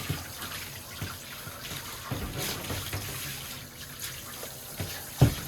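Water trickles and splashes intermittently while shampoo is rinsed off a dog, a fairly faint, uneven running flow with small bumps and a sharper knock near the end, no talk.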